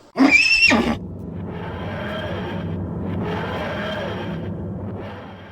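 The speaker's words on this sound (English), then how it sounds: "There's a horse loose inside the TARDIS." A loud horse neigh with a rising, quavering whinny opens the scene in a Doctor Who episode, then gives way to a steady whooshing, rumbling background that fills the rest.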